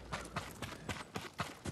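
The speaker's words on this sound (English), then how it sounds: "They're samurai horses." Horses gallop in the Ghost of Tsushima video game, their hooves striking in a quick, regular clip-clop rhythm. The thuds are close but fairly quiet, with no other sounds on top.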